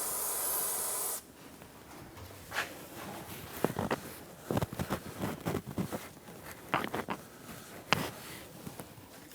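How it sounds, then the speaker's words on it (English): An opening burst of anti-seize lubricant spray hiss gives way to scattered clicks, knocks and short bursts of hissing, close by with no voices, during front CV axle replacement on a Nissan Rogue. "I'm going to spray a little Never Seize in there, anti-seize"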